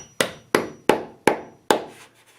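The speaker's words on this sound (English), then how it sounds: "So the plastic fixing should just hammer straight into your hole." A hammer drives a plastic wall plug into a hole drilled in a wall while a curtain pole is being hung: five sharp, evenly spaced knocks close by, each ringing off briefly, with no talking.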